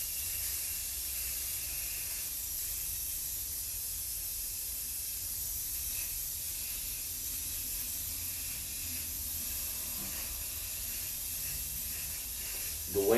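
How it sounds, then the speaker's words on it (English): Clear coat sprayed from a spray gun onto wooden TV tray tables makes a continuous, steady hiss that holds evenly at moderate loudness, close by, ending in a brief clunk. "when you spray your clear coat"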